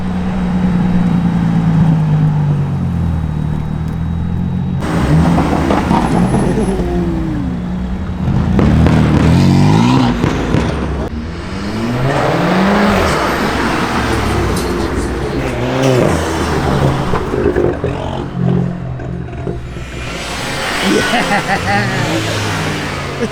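Car engines revving at a static car meet, with rising and falling revs, engine roar and loud bursts, close by, while people talk over the noise.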